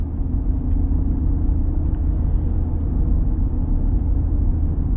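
Inside a moving 2025 Ram Rebel X pickup, a low, even engine drone and road rumble hold steady, loud and close, with no voices.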